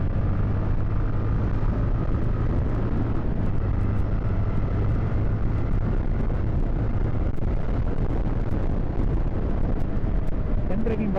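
A 2025 Jawa FJ motorcycle engine pulls hard under full throttle on a speed run, a steady, loud drone mixed with heavy wind rush that holds unbroken throughout.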